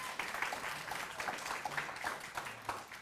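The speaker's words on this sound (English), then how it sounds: "give them a round of applause" Applause for competing college teams on a quiz show, a sustained spread of many hands clapping at moderate distance, somewhat uneven, with no clear speech.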